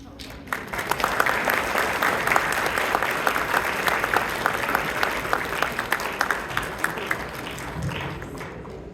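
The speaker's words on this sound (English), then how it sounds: "Please, one more round of applause for Imam Yusuf is available." An audience at a coalition brunch applauds after an imam's address, the clapping swelling in quickly, holding steady and dense, then thinning slightly toward the end.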